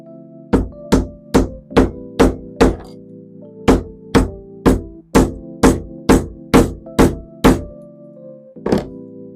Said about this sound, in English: just so it's in a little bit before we start hammering this down.